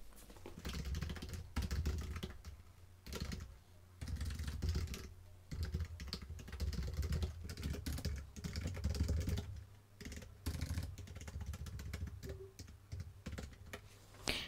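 Fingers typing on a computer keyboard while filling in a Facebook sign-up form, a quiet, continuous patter of key clicks in uneven runs with short pauses and no talking.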